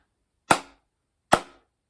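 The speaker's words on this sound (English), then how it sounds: "A sound signal you can do is the 3 signal bursts either with a whistle or with clapping or sticks." Two sharp, dry claps or stick strikes used as a survival sound signal, each a single crisp crack with a short decay, spaced under a second apart in otherwise silent surroundings.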